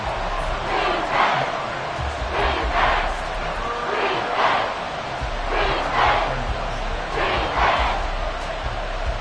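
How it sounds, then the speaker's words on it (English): A football stadium crowd roars steadily in rhythmic, chant-like swells at a Seahawks game, a loud, dense wall of fan noise heard from within the stands. "This crowd turning up the decibel level."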